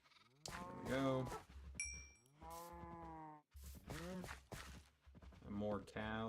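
Cows in Minecraft low repeatedly in a series of drawn-out moos, some overlapping with sheep-like bleats, loud and near with short pauses between calls.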